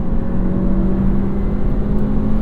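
A 2025 Honda Civic Si engine pulls hard at full throttle in fourth gear, a loud, steady drone with a strong low harmonic that holds even and unbroken from start to finish, no voices over it.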